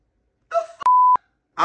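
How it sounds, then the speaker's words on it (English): A single loud, flat censor beep cuts across a man's speech, sounding for about a third of a second before he talks again. "adding the beep in there so you can get the whole F word effect"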